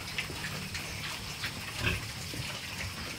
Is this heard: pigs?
yes